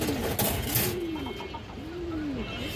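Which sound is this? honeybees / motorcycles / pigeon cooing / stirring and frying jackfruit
pigeon cooing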